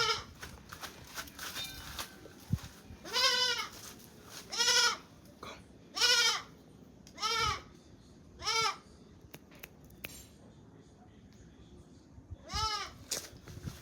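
Goats bleat in a series of wavering, nasal calls, about eight spaced cries at moderate distance, with faint background noise between them.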